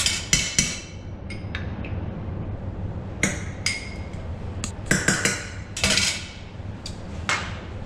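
A metal sauté pan with oil and butter handled on a kitchen stove, giving sharp scattered clanks and clinks of metal against metal in irregular bursts over a low steady background, with no talking.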